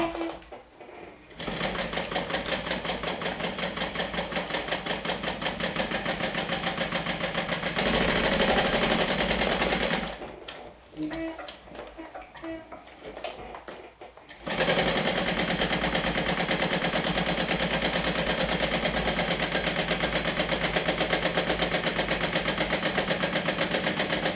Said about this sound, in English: Let's go ahead and stitch all around.